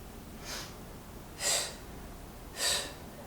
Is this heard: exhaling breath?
yes